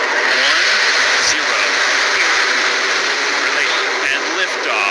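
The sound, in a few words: NASA rocket engine ignition and liftoff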